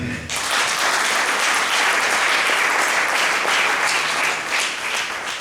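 Sustained applause from a church congregation, a dense broadband wash of many hands clapping that starts abruptly and holds steady and loud throughout.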